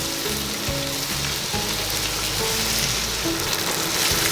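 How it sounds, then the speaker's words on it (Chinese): Di san xian, the Northeastern Chinese stir-fry, tossed with its mixed sauce in a wok, a soft continuous sizzle with scraping and stirring movement, fairly quiet and even throughout. "翻炒一下"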